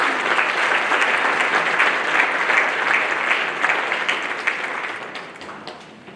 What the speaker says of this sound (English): Let's give Usport a round of applause.